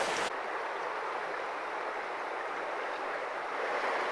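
Rushing water from the River Fowey, swollen by recent rain, makes a continuous broadband roar, steady and fairly close, with no voices.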